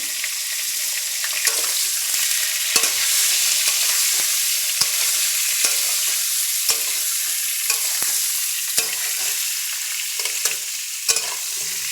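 Pointed gourd (potol) frying in plenty of hot oil, a steady bright sizzle running throughout with occasional sharp clicks and pops of stirring, close and fairly loud, no voices.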